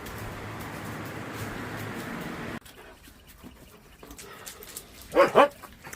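After a steady hum cuts out, the room goes quiet before two short, sharp yips from a puppy ring out near the end.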